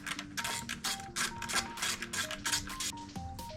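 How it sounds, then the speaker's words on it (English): Bolts being worked loose from a Yamaha TW200 motorcycle with a tool, a rapid run of close ratcheting clicks. "I'm just going to remove these 8mm bolts"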